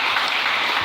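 A church congregation bursts into applause during a morning service, dense continuous clapping from many hands, loud and close, in a brief burst.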